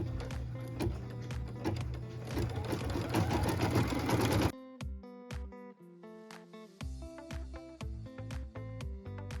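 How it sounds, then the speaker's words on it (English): An embroidery machine stitches a raw-edge appliqué in white thread with a dense, rapid whirring for about four seconds, then stops abruptly while background music carries on. "So I'm going to go ahead and stitch that in a white colored thread."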